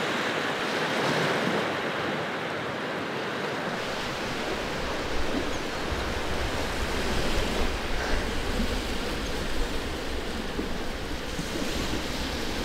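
Sea waves breaking on the shore, a continuous loud wash of surf with gentle swells in intensity and some wind rumble, heard alone with no talk.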